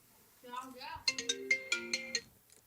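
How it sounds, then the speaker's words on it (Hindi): A mobile phone ringtone plays a quick run of bright, melodic chiming notes, close and clear, preceded by a brief voice. "पता नहीं किसका फोन आ रहा है बार बार"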